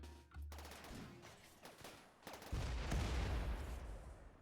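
Gunfire from colonists shooting at mechanoid enemies in a RimWorld mech hive battle: scattered quiet shots that build into a denser, steady fusillade in the second half, with no voices.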